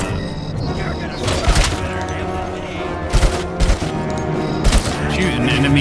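Gunfire in RoboCop: Rogue City, loud sharp shots in scattered bursts and pairs over dense game noise and a voice talking.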